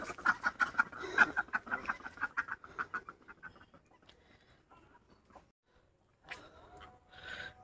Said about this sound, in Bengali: চলো এখন মুরগিগুলোকে ছেড়ে দিই, হাঁসগুলো ঢুকে যাক, তারপর মুরগি আবার ঢুকবে।